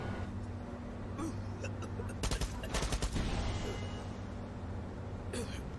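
A rapid burst of Far Cry 6 gunfire aimed at a barrel crackles in the middle, over a steady hum of game background noise.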